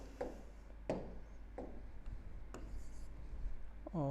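Several distinct strokes of writing a correction on a board during a chemistry lecture, spaced about half a second apart, faint and scratchy in a quiet room.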